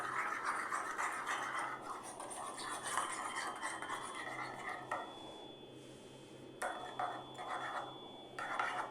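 Spoon scraping and clinking in a bowl as ingredients are mixed with added sugar for cheesy potato fries, a steady close scratching and stirring that runs throughout with small pauses, no talk.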